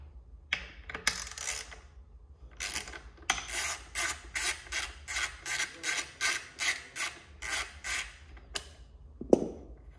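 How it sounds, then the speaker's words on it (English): Number 6 Allen key working a lower subframe bolt loose on a Kawasaki KX250F/KX450F dirt bike, a rapid series of rhythmic metallic ratcheting and grinding bursts up close, ending with a clank. "we're going to begin by removing the OEM lower subframe bolt"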